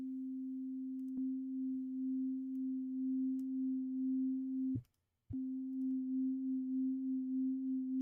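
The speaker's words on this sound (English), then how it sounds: "Which essentially doubles the sound and puts them in phase against each other so that you kind of get that kind of left-right sound thing" A subtractive synthesizer holds a steady pure tone through a chorus effect that doubles it left and right, giving a gentle wavering pulse that cuts out briefly near the middle before resuming.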